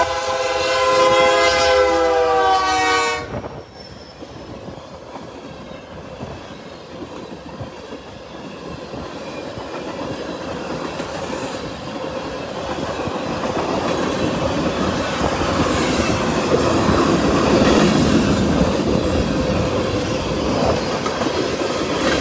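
A CSX freight train heading north through Hanson, Kentucky on the Henderson Subdivision: a loud, close horn blast opens, then a long steady roar and rumble of rolling cars with rhythmic wheel clatter, no talking.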